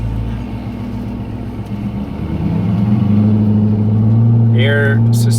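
A 1200 BHP Dodge Charger Hellcat SRT with a lumpy cam pulls away from a stop, its deep engine drone building steadily in pitch and loudness from inside the cabin, while people talk over it.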